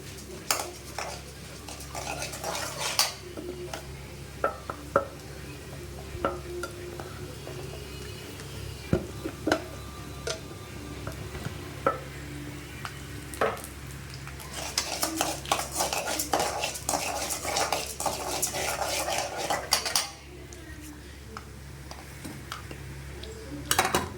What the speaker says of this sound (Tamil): கடலைப்பருப்பு, உளுத்தம் பருப்பு நல்லா வறுத்துக்கலாம்.